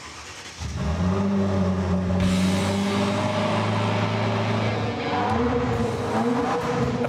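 A replica Porsche 550 Spyder with a carbon fiber hood starts up and revs close by, a loud sustained engine roar that rises in pitch, eases briefly, then climbs again.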